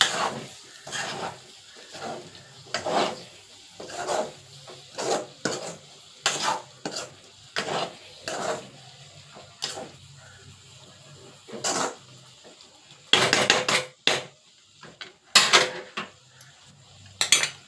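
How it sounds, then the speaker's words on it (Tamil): A spoon or spatula stirs and tosses egg in a metal pan, with repeated clanking scrapes in an irregular rhythm, close and fairly loud, separated by quiet gaps. "கிண்டி விட்டு அப்படியே முட்டையை பெரட்டி விடுவோம்."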